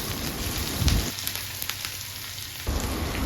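Onions and halved green chillies frying in a pan, a steady close sizzle with a brief louder crackle, no voices.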